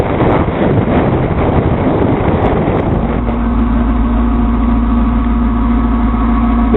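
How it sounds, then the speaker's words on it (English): A ferry's engine drones steadily on deck, heading across the Atlantic in Iceland, with heavy wind buffeting the microphone at first, then the deep engine hum and tonal rumble taking over, loud and continuous, no talking. "This is the ferry to Flatty Island from Stikisode."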